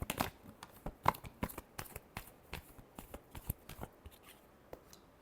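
Tarot cards are shuffled by hand in a quiet room, giving a steady series of soft, crisp riffles and taps close up, with no voice.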